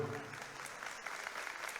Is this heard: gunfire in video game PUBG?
no